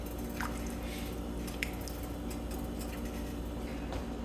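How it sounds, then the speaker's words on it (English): Chicken taco soup coming to a boil in a pot over medium-high heat makes a steady, low bubbling wash with a few faint pops and drips. "Our soup is starting to come to a boil now"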